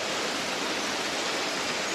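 Steady broadband rush of a waterfall near Talybont Reservoir in the Brecon Beacons, a continuous hiss of falling water with no breaks, fairly loud and close, with no voices.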